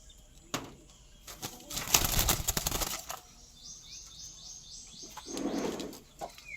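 A captive yellow-breasted fruit dove being fed in its breeding enclosure, with brief flapping and rustling bursts, a short soft call, and a low cooing note near the end, all heard close and fairly quiet.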